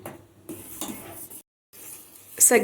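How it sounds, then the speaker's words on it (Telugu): Spoon stirring sago and rice in a cooking pot, with scraping clinks against metal in a few short bursts, a brief pause, then a louder clatter near the end; close and moderately loud, no talk. "మధ్య మధ్యలో బియ్యాన్ని ఇలా కలుపుకుంటూ ఉండండి లేకపోతే అడుగున అంటుకుంటుంది"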